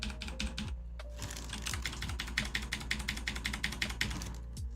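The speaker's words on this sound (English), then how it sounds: "They're a little loud, or at least on the louder side, because I got me some Cherry Blues for my current keyboard." A mechanical keyboard with Cherry MX Blue switches clacks through a steady burst of rapid, loud, clicky keystrokes close to the microphone, with no voice over it.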